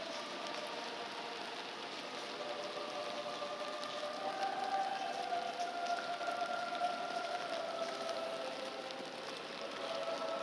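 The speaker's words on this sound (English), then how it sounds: "Ugh, I wish it would stop raining." Steady rain falls on a rainy day in Seoul at the War Memorial, a soft, even hiss of drops heard from nearby, with a faint tonal hum drifting underneath and no talking.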